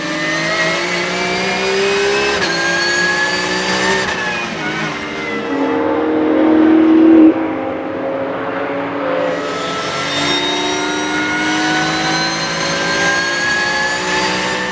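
Porsche race cars in a Roscar series race at the Dijon-Prenois circuit, engines roaring loudly and continuously, with pitch rising and falling as cars pass, swelling to a peak as one sweeps close by.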